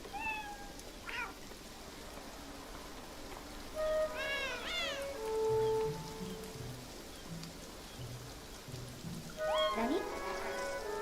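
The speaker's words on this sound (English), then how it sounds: "I'm in a cat alley." Several cats meow in the video game Beyond Eyes, with short separate bursts of meowing near the start, middle and end over a steady patter of rain.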